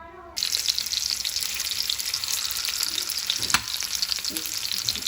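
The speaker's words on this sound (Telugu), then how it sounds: "కాకరకాయలు వేయించుకోవడానికి సరిపడా ఆయిల్ని యాడ్ చేసుకోవాలండి" Bitter gourd frying in oil, a steady close sizzle that runs almost the whole time, starting after a brief quiet moment, with a few light stirring scrapes.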